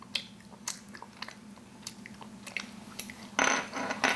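Kimchi sujebi, a hand-torn dough soup, is chewed close to the mic, with soft, irregular bites and squishy mastication sounds that repeat for several seconds, followed by a brief louder rustle.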